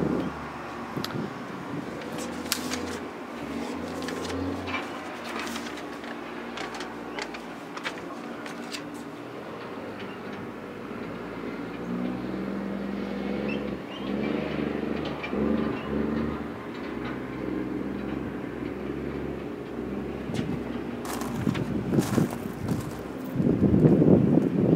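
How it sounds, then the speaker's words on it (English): Construction trucks work on a park just beyond a fence, a low, steady mechanical rumble at a distance that swells in the second half, mixed with gusty wind buffeting the microphone. "As you can hear, the construction trucks, they've started construction on the park on the other side of the fence"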